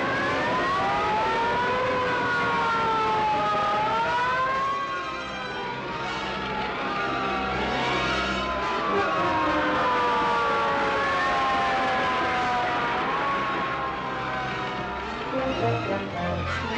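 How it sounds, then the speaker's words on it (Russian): Several fire engine sirens wail loudly toward a street fire in a 1950 family comedy film, rising and falling tones overlapping continuously throughout with no voices. "Пожарные машины стремились на Мейпл-стрит."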